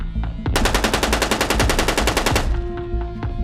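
Gunfire sound effect of police firing in response: a sustained rapid burst of closely spaced shots for about two seconds, loud and alone, with a few scattered clicks before and after.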